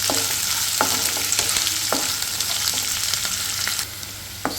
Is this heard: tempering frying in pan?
yes